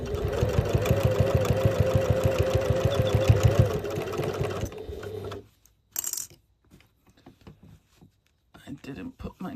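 A sewing machine stitches a zippered pouch in a loud, fast, steady mechanical whir that stops after about five seconds, leaving quiet broken by small clicks and handling sounds.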